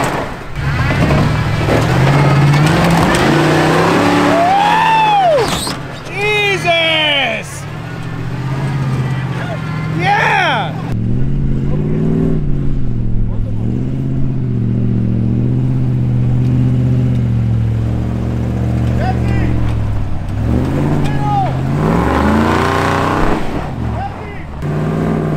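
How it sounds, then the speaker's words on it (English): An off-road truck on the Pilot Rock 2N17X trail revs hard in repeated surging bursts during burnouts, with engine pitch swooping up and down. Loud and close, with people shouting and talking excitedly over it throughout. "Oh, burnouts, burnouts."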